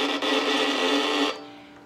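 A violin bow is pushed slowly and heavily across the two middle strings, imitating a creaking door with a dense, gritty, scraping drone that holds steady and then fades.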